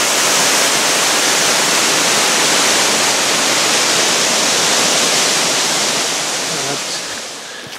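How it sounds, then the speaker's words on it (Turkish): Waterfall in Horton Plains National Park, Sri Lanka, a loud, dense, continuous roar of falling water heard up close, easing slightly near the end. "Parkın içindeki muhteşem şelale."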